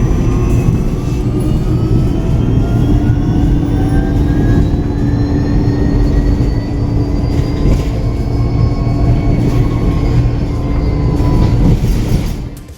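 Interior of an early KGM electric bus with a German ZF motor running in Busan: a subway-like drive whine with faint high tones gliding upward as it accelerates, over a steady loud road rumble.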